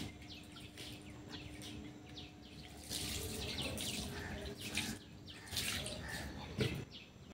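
Tap water runs steadily into a sink while soaked clothes are rinsed. The water is faint and continuous with occasional louder splashes, and a few distant bird calls sound in the background.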